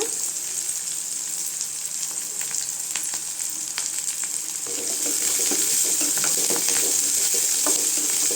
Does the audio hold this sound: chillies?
yes